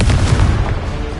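A Confringo blast spell in Hogwarts Legacy goes off as a loud, close, booming burst with a rumbling low end that fades over about a second.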